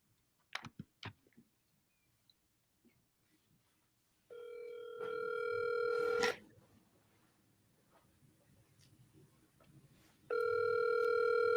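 Outbound phone call from a sales dialer: a few clicks of dialing, then a steady electronic ringback tone in two long bursts separated by a quieter gap, clear and close with no talk.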